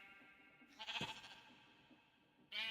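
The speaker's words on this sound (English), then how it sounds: "Sheep. Sheep. Sheep." Sheep bleat in a Minecraft modpack, with one short bleat and then a second starting at the end, moderately loud over quiet game ambience, with no speech.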